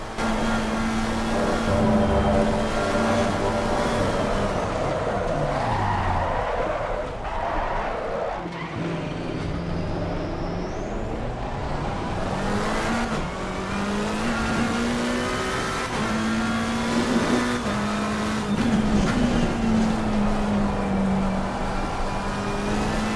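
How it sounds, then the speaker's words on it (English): McLaren 720 Evo race car spinning out at Spa-Francorchamps in a racing video game, its engine droning loudly and changing pitch throughout, with tires skidding and squealing through the spin before the engine pulls away again. "I run wide on the curve and do a 360 trying to recover, losing many positions and really heating on my tires."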